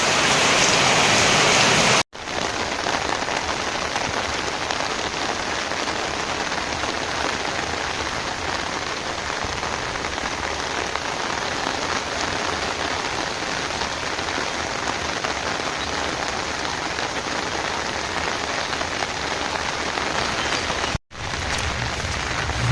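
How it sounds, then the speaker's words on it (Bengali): Heavy monsoon rain pours down without a break, a loud, dense, even hiss of drops beating on surfaces that briefly cuts off near the start and again near the end. "বৃষ্টি আর থামছেই না একটু কমে আবার বেশি করে নামে"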